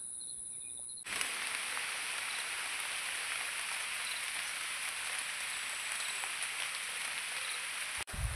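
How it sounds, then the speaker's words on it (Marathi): Heavy rain pours down outdoors among green grassland and hills, a steady dense hiss that starts abruptly after a second and holds loud and even to the end, with faint insects in the background. "पाऊस जोरदार आला आता"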